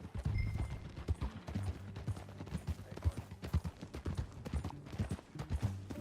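Horse hooves clip-clop at a steady riding pace in the Red Dead Redemption 2 game world, a rhythmic series of close, clear hoofbeats continuing throughout with no talk.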